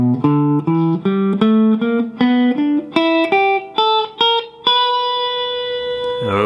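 An electric guitar runs up an E blues scale in the C-shape position, a quick series of single picked notes climbing steadily and ending on a held, ringing note with a slightly distorted, reverberant tone.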